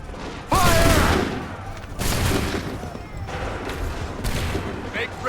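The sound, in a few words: musket volley gunfire in the video game Assassin's Creed III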